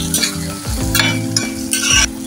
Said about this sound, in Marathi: आता कांद्यासोबत आपण टोमॅटो पण शिजवून घेऊया।